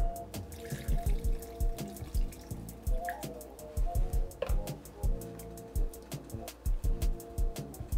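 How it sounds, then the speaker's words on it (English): Water runs and splashes in uneven bursts into a cooking pot holding potatoes for curry sausage, with faint dripping and clinks from the stove area, close by and moderately loud. "We're gonna add some more water."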